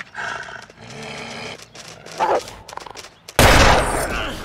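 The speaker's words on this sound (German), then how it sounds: "Ah, da drüben ist ein Wolf, okay." A wolf in the video game The Long Dark gives several short, gruff barks and yelps close by. These are followed by a sudden loud, noisy burst of game sound.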